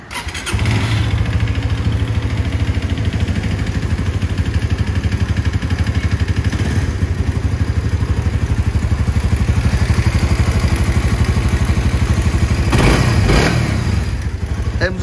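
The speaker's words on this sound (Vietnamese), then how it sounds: "Đây cho anh em nghe bô zin nhá" A Yamaha R15 V3 or Honda CBR150R sport bike on its stock exhaust starts up and settles into a loud, close, steady idle with a fast even putter and a brief blip of revs near the end.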